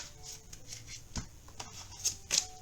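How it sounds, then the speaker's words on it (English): Tarot cards are shuffled in a few quick, soft riffles and flicks, close by and fairly quiet, with no speech over them. "Give them a little shuffle."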